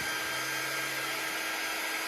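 A hair dryer or air dryer blows steadily at close range during chalk crafting on a bunny patch kit, a constant broad whoosh with a faint low hum and no talking.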